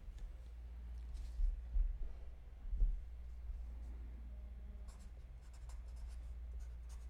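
A pen writes a signature in ink with soft, scratchy strokes in a few short bursts near the start, faint and close over a steady low room hum, with no talking.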